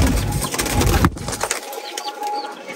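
A pigeon's soft cooing close by, with rustling and handling noise, then a quieter stretch with faint high chirps.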